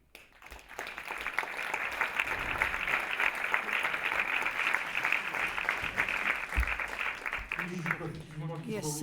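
A forum audience applauds after a speech on Philippine extrajudicial killings: a dense, steady wash of many hands clapping for about eight seconds, then fading as a voice begins speaking.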